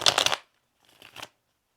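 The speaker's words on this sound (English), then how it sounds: "let's do a couple shuffles here for Taurus." Tarot cards are shuffled by hand in two short bursts, a crisp riffling flutter close up, then a softer second pass after a brief pause.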